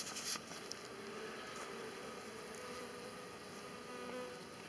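Honey bees swarm in a dense, steady buzz around a backyard hive, close and continuous with no talking.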